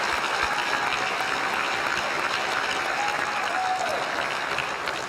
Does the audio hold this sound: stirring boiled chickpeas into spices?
no